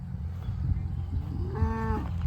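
A single cow gives one drawn-out moo near the end, rising and then falling, over a low, rumbling outdoor background.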